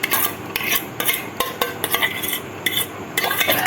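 Paneer stirred into thickening milk in a kadhai, with quick repeated metal scrapes and clinks of the spoon against the pan, close and steady.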